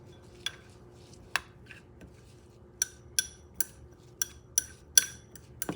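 Garlic mixed into chimichurri in a bowl, a series of sharp, close clinks of a metal utensil against the bowl, irregularly spaced, with soft stirring between.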